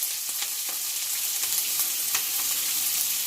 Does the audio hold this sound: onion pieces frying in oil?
yes